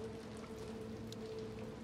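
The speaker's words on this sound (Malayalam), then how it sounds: "മഴ, ആ മഴ" Faint, steady rainfall in the video game Little Nightmares 2, a quiet, even patter over a low hum of game ambience, with no talking.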